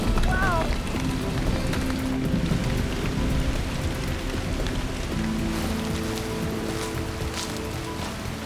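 Heavy monsoon rain pours steadily near a Kerala beach house in Kannur, a dense, even hiss of drops that continues throughout, with a voice briefly speaking over it.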